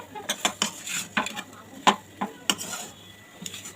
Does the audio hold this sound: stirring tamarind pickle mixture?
yes